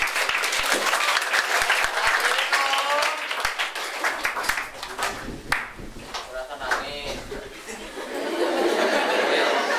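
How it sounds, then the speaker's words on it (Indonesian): Audience at a high school student council election event applauds loudly for a student speaker, dense clapping mixed with chuckles and chatter, dipping briefly in the middle before swelling again. "Kita kasih tepuk tangan buat Pran."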